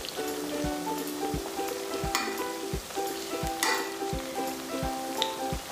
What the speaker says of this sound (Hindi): अब लगभग 2-3 मिनट हो गए हमारे नाश्ते को फ्राई होते हुए एक साइड से